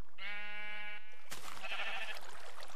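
Minecraft sheep bleat in the video game, one drawn-out tonal baa followed by a second, rougher and noisier bleat, clear and close.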